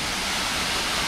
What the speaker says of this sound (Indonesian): Tuh. Air terjun.